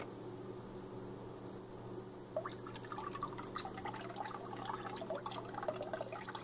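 Homemade chlorine-free bleach liquid poured into a container, a soft trickle that swells into a steadier splashing pour halfway through over a low background hum.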